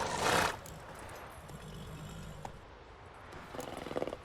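A horse in The Witcher 3 game neighs loudly at the start, followed by quieter rustling and a burst of rhythmic hoofbeats as it sets off at a gallop, with no talking.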